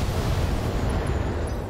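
Mech weapons firing in the BattleTech video game make a steady, dense rumbling roar that stays loud and continuous, with no distinct separate shots, and no voices.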